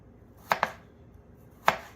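Knife chopping through potatoes to cut them into wedges for air frying: three sharp, close thuds, a quick pair followed by a single cut after a pause, in a quiet kitchen.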